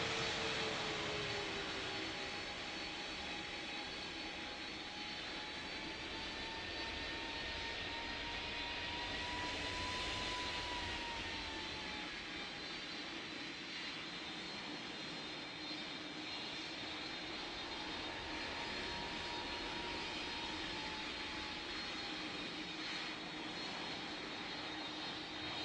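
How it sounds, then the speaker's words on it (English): An airplane lands in the Roblox game Pilot Training Flight Simulator, with a steady, loud jet engine roar and a whining tone that slowly shifts pitch, continuing without pause. "That was a smooth landing."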